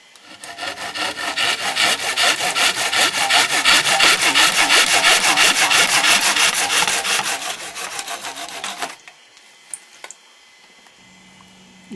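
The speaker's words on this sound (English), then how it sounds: "Just cut it to length." A tree branch is sawn to length with steady back-and-forth hand strokes, loud and close, for about nine seconds before the cutting stops and only faint small handling noises remain.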